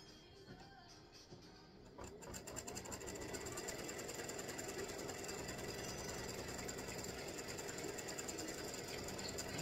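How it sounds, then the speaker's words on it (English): An embroidery machine sews a satin stitch over tack-down stitches, a fast steady mechanical chatter that starts quietly and then runs loud and continuous, close up and without talk. "It'll come back and do a satin stitch on top of them"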